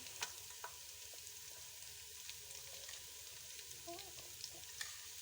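Garlic and ginger paste frying with green and black cardamom, cloves, cinnamon and black peppercorns for a potato chicken curry, a soft steady sizzle with a few light clinks of stirring.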